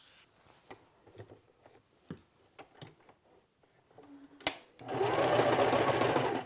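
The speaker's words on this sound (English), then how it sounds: "I'm just going to chain sew these one after the next" A sewing machine chain-sews curved quilt pieces for a Drunkard's Path block: first soft scattered clicks and handling taps, then the machine whirs into a loud, steady run near the end.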